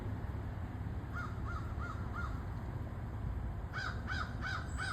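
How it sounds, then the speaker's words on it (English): A large flock of crows caw outdoors, first in a run of four rhythmic calls, then in a denser overlapping burst near the end, heard at moderate distance over a steady background rumble. "You hear that? That's a lot of crows."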